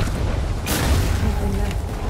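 A sharp, booming flintlock gunshot crack from a video game, followed by a rumbling low tail and faint mechanical clicks.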